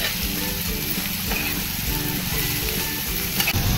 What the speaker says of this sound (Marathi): याला छान परतून घेऊया।